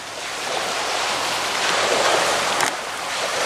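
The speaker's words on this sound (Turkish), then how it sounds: "Denize sıfır. Deniz sesinden anlayabilirsiniz." Sea waves washing onto a rocky shore by scrubland on the Karaburun coast, a continuous close rushing surf with one sharper splash near the end, with wind noise and no voices.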